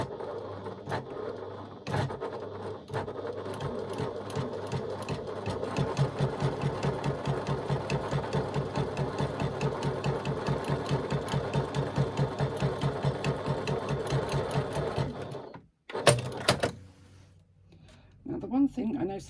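A sewing machine stitching a pleated fold into a pocket, a fast rhythmic needle clatter running steadily for about fifteen seconds before stopping, followed by a few handling clicks.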